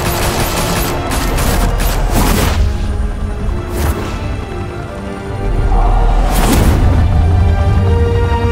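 Gunfire in the Batman: The Telltale Series video game, a loud, dense fusillade of automatic shots with booming bursts and whooshes that runs continuously throughout and rises again near the end.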